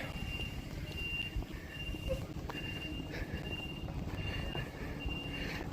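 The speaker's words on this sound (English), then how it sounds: "There's like a pickup truck, a dump truck backing up," A dump truck backing up outdoors sounds steady, evenly spaced reversing beeps at a middle distance over a constant rumble of engine and traffic noise.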